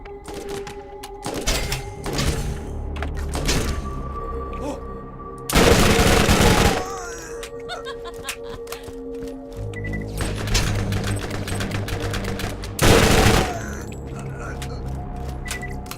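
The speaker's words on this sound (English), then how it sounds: "This is pretty much an ordinary SMG, but it's just awesome because it's built from good parts." Bursts of submachine-gun fire from a Dahl SMG in the video game Borderlands, two loud sustained volleys over a busy game soundscape with other shots and thuds around them.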